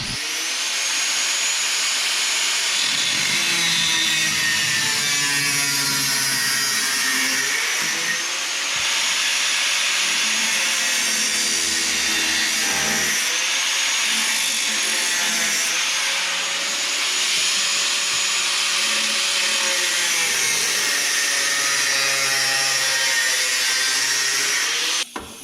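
A power cutting tool grinds steadily through a 1999–2007 GM truck cab corner panel, a loud, continuous whine with slight pitch shifts as the cut progresses, running almost the entire time without speech.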